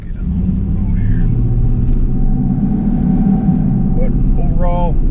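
A 2002 GMC Sierra Z71 4x4 pickup truck driving on a road, its engine and road rumble steady and close throughout, with someone talking over it.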